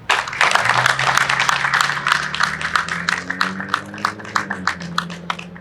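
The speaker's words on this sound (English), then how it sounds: "Let's give him a big round of applause" An audience at an Orange County press conference applauds: a burst of many hands clapping close by, dense at first and then thinning into scattered claps, with a faint voice underneath.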